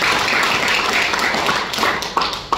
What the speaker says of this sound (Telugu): సార్ కోసం గట్టిగా క్లాప్ చేయండి.